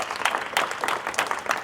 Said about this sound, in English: can we offer a round of applause for Dr. Gallagher-Elkins and Dr. Bolin?